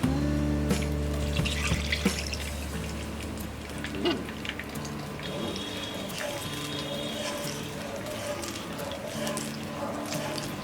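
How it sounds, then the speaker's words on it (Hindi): Milk pours in a steady liquid stream into a pan of melted ghee on a gas stove for milk malai modak, a continuous close trickle over a faint hum. "अब हम डालेंगे इसमें ये मिल्क"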